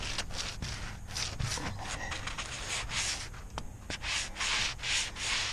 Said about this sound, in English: I'm just using the sanding block,